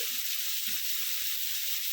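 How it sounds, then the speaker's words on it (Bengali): Masala spice paste sautéing in hot oil for a fish roe curry gives a steady, even sizzle and hiss that stays close and continuous, with no voices. "মশলাটা আমি ভালো করে কষিয়ে নিয়েছি"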